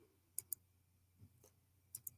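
A digital word wheel shuffles with a few sharp, faint clicks in quick pairs against a quiet hum, spaced irregularly and close up.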